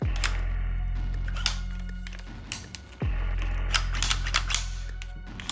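A B&T GHM9 9mm carbine has its magazine cleared up close, giving a few sharp metallic clacks and clicks with mechanical rattling in between and no voices.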